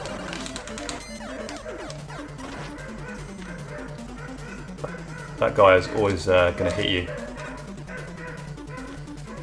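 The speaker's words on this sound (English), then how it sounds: "Sorry if you can hear like the dogs barking outside." Dogs outside bark in a short burst of yips and bow-wows, sounding somewhat distant, under steady Mega Man 2 NES game music and someone talking.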